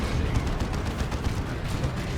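Dense, rumbling battle noise from Dawn of War 2 as a Las Cannon fires shots at a target, booms and crackles piled into a continuous loud roar with no clear gaps between blasts.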